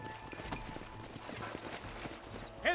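Horses trot in the video game Red Dead Redemption 2, their soft rhythmic clip-clop hoofbeats fairly faint under a low ambient background.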